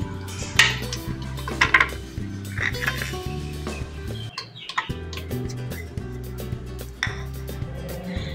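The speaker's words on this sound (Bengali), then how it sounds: "জারের মধ্যে দিয়ে দিচ্ছি কয়েকটা কাজু," Cashews drop into a blender jar with light hard clinks and rattles against the container, several separate clatters over a steady low hum, no speech.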